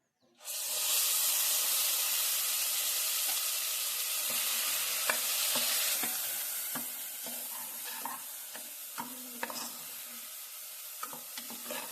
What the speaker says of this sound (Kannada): ಇವಾಗ ಎಣ್ಣೆ ಕಾದಿದೆ. ರುಬ್ಬಿದ ಮಸಾಲ ಹಾಕೊಳ್ಳೋಣ.